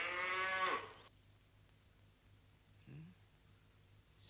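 A single loud cow moo rings out at the start, then quiet with a faint low call later.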